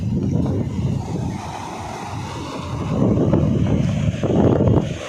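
Sea waves wash in on Visakhapatnam beach under steady wind buffeting the microphone, a loud continuous roar that swells and eases as the surf rolls in.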